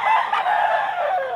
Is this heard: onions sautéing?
no